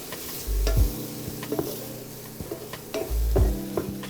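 Onions frying in a pan over medium heat get stirred, the spoon scraping in two long strokes amid a steady soft sizzle and scattered clicks, with no talk.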